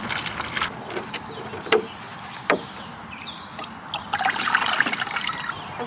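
Rusty flush water from a kei truck cooling system trickling through a coffee filter, a close, uneven dribble with occasional drips and small clunks, swelling into a fuller pour near the end.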